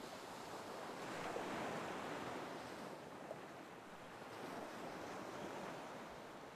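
Ocean surf rolls in a steady, continuous wash with wind noise, swelling gently in places and staying moderately loud throughout with no voices.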